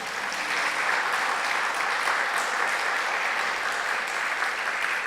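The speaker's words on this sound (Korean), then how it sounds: "이런 때 박수 한번 쳐야죠." Applause from a church congregation during a testimony at a prayer meeting, a steady even wash of clapping lasting several seconds, fairly distant and moderately soft with no voices over it.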